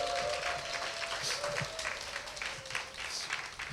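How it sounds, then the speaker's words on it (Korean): A church congregation applauds its worship team during a Sunday service, a steady wash of clapping sustained throughout with a faint tone running beneath, moderately loud and continuous. "우리 예배팀에게 격려의 박수 한번 드리겠습니다"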